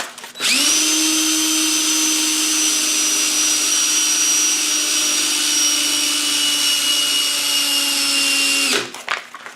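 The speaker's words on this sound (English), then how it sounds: "while it's spinning, I'm gonna hold up the 150 grit, the lower grit sandpaper to it first" A plastic yoyo whines steadily as it spins while 150-grit sandpaper is held against it, a loud, continuous abrasive hum with a high tonal ring lasting several seconds before stopping abruptly.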